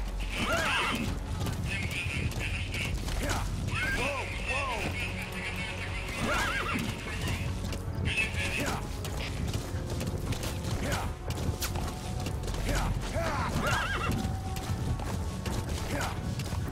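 A horse whinnies several times with hoofbeat clip-clops and mechanical creaks in Metal Gear Solid V: The Phantom Pain, mixed with ongoing game sounds and a voice talking over parts.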